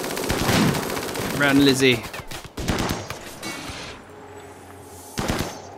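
Rapid bursts of automatic gunfire and chain gun fire in RimWorld combat against scythers and centipedes, loud crackling volleys that fade, then a final short burst, with a voice speaking briefly between them.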